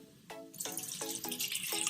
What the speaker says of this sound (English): I'm also going to add a little bit of water